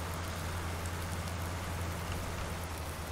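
Steady rain falling on a farm in Farming Simulator 19, a dense, even hiss of raindrops over a low hum, continuous and moderately loud with no talk.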